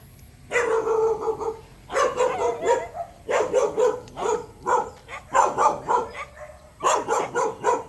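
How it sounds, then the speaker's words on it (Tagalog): Several dogs bark in repeated bursts on a village street, the loud close barks coming in clusters with short pauses between them, with no talk over them. "May mga aso."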